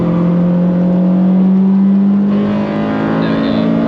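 Inside a Honda Civic Type R EK9 on the Nürburgring, the engine holds a steady high-rpm drone, loud and close, with a slight pitch shift midway as it pulls hard.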